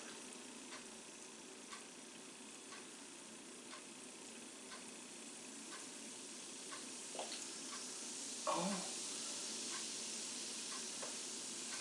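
Vinegar poured onto baking soda from a turkey baster fizzes with a steady, soft hiss of tiny popping bubbles, close and continuous, with a brief louder splash near the end and one short spoken exclamation.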